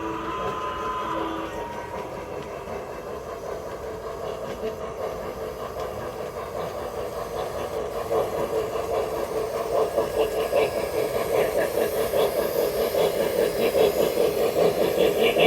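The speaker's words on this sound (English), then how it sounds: "Not quite sure why Santa Fe is pulling a New York Central Heavyweight consist" A model train with a Santa Fe locomotive pulls New York Central Heavyweight passenger cars at a train show, giving a steady close rumble and clickety-clack that grows louder over time, with no talk.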